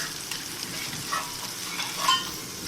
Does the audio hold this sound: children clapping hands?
no